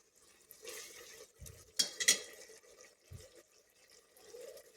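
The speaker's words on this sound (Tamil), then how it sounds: "நல்லா வதங்கிட்டுறோன்னு திருப்போம். வெங்காயம் தக்காளியில் நல்லா சுருண்டுருச்சு வெந்து." Onions and tomatoes sautéing in a pan, faint and quiet, with soft stirring scrapes and a couple of sharper metallic clinks midway, plus low thuds of the spoon against the pan.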